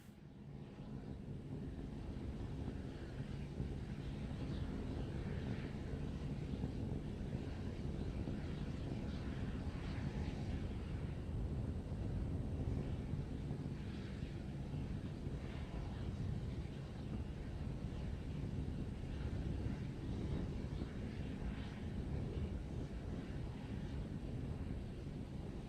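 A SpaceX Starship SN15 prototype climbing during a high-altitude flight test, heard as a continuous, low, broadband rumble with a steady roar and no break for the whole stretch.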